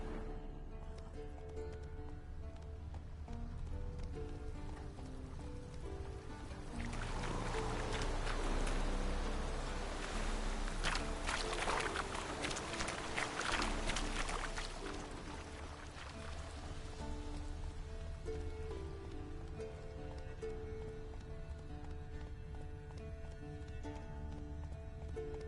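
Roach the horse in The Witcher 3 clip-clops along steadily over a damp, rain-soaked ambience, and the hoofbeats swell louder and busier in the middle stretch before easing back.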